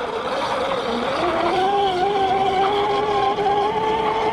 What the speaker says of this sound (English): You ever see a boat tow a truck on the water?